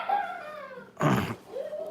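A dog whimpers and yips while biting at a puppy in a breeding yard, giving high, thin whines that rise and fall with a brief, louder scuffling burst in the middle.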